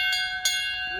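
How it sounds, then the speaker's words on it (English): Two bright metallic strikes of a farm gate bell for fresh eggs ring out close together, with a steady high tonal hum sustained underneath. "Ring the bell for fresh eggs."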